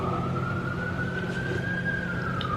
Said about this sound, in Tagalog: Ano ba ito? Bumbero.